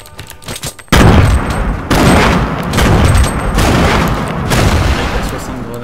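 Rapid bursts of gunfire from a player shooting in Fortnite, loud and close, starting after a brief quieter lead-in and continuing in dense repeated volleys.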